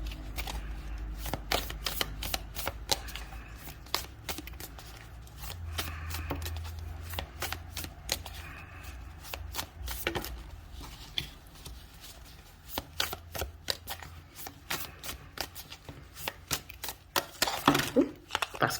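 Tarot cards shuffled at length, soft papery riffles and taps in an irregular rhythm, with a few cards slipping out, quiet and close with no talk.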